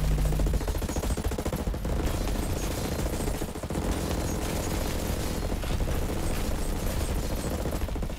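Sustained automatic gunfire at a target in Ghost Recon Breakpoint, loud and continuous with rapid overlapping shots and no pauses from start to finish.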